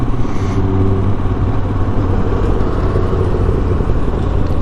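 A motorcycle passing close on the road with a loud, steady engine rumble, heard from a rider's position on a Royal Enfield, with strong wind buffeting throughout.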